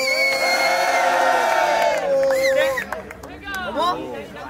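Crowd at a tag-team freestyle rap battle final cheering, whooping and shouting loudly and continuously, with excited voices rising and falling in a dense babble close by.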